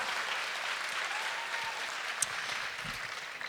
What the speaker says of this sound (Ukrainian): Давайте поаплодуємо Миколі. Ці оплески для вас.